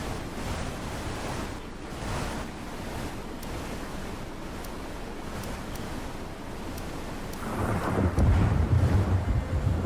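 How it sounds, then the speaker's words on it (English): Violent roaring wind from inside a very large tornado with winds near 170 mph, a steady loud rush buffeting the microphone that swells stronger near the end. "Right in the middle of a tornado."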